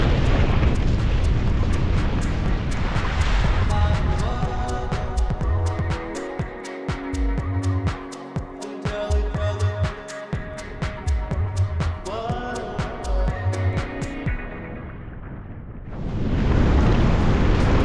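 Strong wind roaring over the microphone at the Étang de La Palme flat-water windsurfing spot near Leucate, loud and continuous, with rattling clicks and tonal flutter in the middle before the gusting returns.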